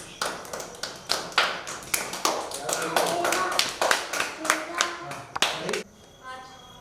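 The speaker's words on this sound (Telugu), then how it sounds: "క్లాప్స్." A group of children clapping at a New Year celebration, a run of sharp close claps in uneven bursts for about six seconds before stopping, with voices audible afterward.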